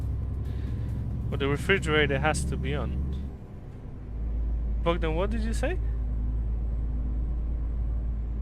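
A lorry with its refrigerated trailer unit running in Euro Truck Simulator 2 hums with a low steady engine drone and briefly dips before resuming, while people talk over it.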